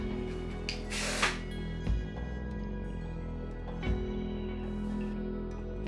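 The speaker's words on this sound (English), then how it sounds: "And then I'm gonna hairspray it too." Hairspray sprayed onto back-combed hair during an Elsa-style styling session, heard as a short hissing burst under a steady low background hum, followed by faint handling clicks.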